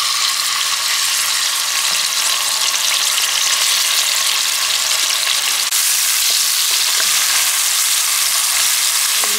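Onions frying in oil in a pot for Hilsa fish pilaf, cooked outdoors, give a loud, steady broadband sizzle throughout, with faint occasional stirring clicks.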